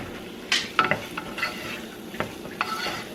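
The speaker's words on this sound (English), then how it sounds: "stir it around." Diced ham stirred around in a pan: a few close scrapes and light clacks of a utensil against the pan over a faint sizzle, irregular and brief, with no talking.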